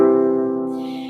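One major chord played on a keyboard, sustained and slowly fading, heard alone and up close with a brief hiss entering near the end.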